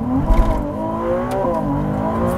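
A 2023 Ferrari 296 GTB hybrid supercar accelerates hard, its engine note climbing steadily in pitch over a couple of seconds with a brief shift dip, loud and close with no talking.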